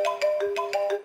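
A mobile phone ringtone plays from an accidental pocket call, a bright, looping electronic melody of about five quick pulses, clear and alone.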